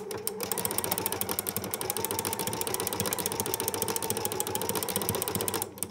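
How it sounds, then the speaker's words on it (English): A sewing machine fitted with a flower stitch foot runs continuously for several seconds, giving a loud, close, rapid mechanical chatter of stitching that stops abruptly at the end. "Do a few stitches and cut off this excess thread carefully using a trimmer. And then continue sewing."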